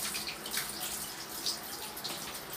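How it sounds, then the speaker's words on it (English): A tap runs softly during a bull terrier's bath, giving a faint, steady trickle with scattered splashes and drips that stays fairly quiet throughout. "Sometimes you have to follow the strand of the hair when you're taking a shower with Coco."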